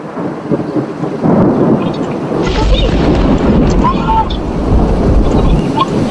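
A thunderstorm in the video game Dusty Trip, with rumbling thunder swelling into a loud heavy roll over steady rain, mixed with game sounds.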